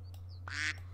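A single cartoonish duck quack from the Super Auto Pets game, short and bright, sounding over a steady low electronic hum.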